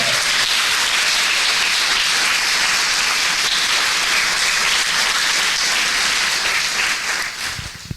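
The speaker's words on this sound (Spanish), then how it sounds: "Denle un aplauso a él." A church congregation applauds loudly and continuously for several seconds, a dense wash of many hands that tapers off near the end.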